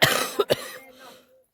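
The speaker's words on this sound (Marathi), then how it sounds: "खोकला येतोय त्याच्यामुळं एकदम ठसका लागलाय." A person breaks into a sudden choking cough at a roadside on a Narmada pilgrimage walk: a harsh, close burst, then two quick sharp coughs, trailing off into quiet.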